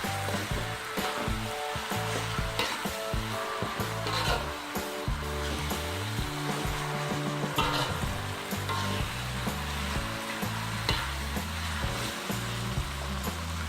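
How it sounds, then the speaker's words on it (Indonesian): Cassava leaves and shoots with chili being stirred in a frying pan, a steady loud sizzle running throughout with a constant frying hiss and faint stirring under it. "Lalu kita aduk-aduk sampai cabenya terbaur dengan daun singkong dengan pucuk ubinya"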